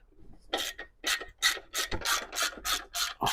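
A ratchet wrench loosens the 10 mm bolts holding a cover, giving about eight rhythmic bursts of close, rasping clicks with short gaps between them and no talking.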